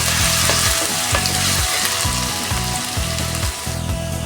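Ginger and garlic sizzle loudly in hot coconut oil, a constant crackling fry with faint spoon scrapes against the pan and low rhythmic tapping beneath, no voices.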